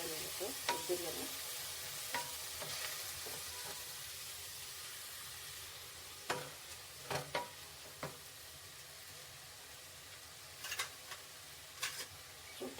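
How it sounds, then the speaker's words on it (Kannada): Mint and onion frying in a pan for a country-style egg biryani give a faint, steady sizzle, broken by occasional stirring scrapes and light clicks of the spoon against the pan. "ಪುದೀನ ಈರುಳ್ಳಿ ಎಲ್ಲ ಚೆನ್ನಾಗಿ ಸ್ವಲ್ಪ ಫ್ರೈ ಆದರೆ ಚೆನ್ನಾಗಿರುತ್ತೆ"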